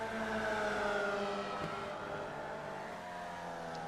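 Formula Vee race car on the Lime Rock circuit in iRacing, its engine droning steadily with shifting harmonic tones as it brakes and carries momentum through corners, loud and continuous throughout with no talk.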